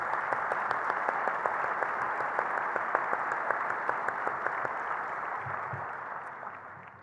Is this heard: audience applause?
yes